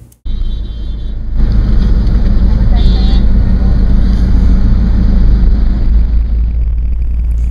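Heavy road traffic rumbles steadily in Sri Lanka, a loud, close engine drone as from inside or beside a moving vehicle, with a brief higher tone like a horn partway through.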